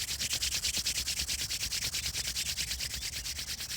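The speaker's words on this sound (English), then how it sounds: "I invite you to rub your hands together to create some warmth." Hands rub briskly together in a fast, even back-and-forth rhythm, a close, steady swishing friction that continues throughout with no talking.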